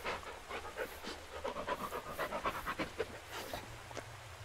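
A dog in the Blair Witch video game pants quickly and rhythmically, soft and fairly close, the quick breaths running steadily over a low background hum.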